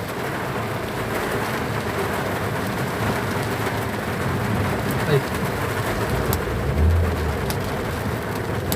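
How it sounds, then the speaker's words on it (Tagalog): A sudden heavy downpour hisses in a dense, steady roar, with low rumbles and a brief voice exclaiming over it. "Biglang buhos ng ulan"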